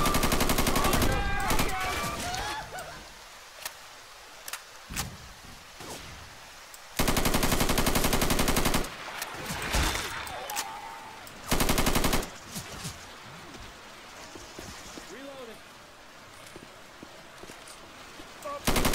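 Rifle fire in the video game Left 4 Dead 2 during a flooded, rainy custom campaign, with loud sustained automatic bursts separated by pauses and scattered single shots, mixed with players talking.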